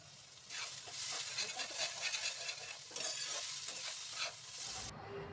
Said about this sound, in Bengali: এবার এগুলোকেও খুব ভালো করে একটু ভাজা ভাজা করে নেব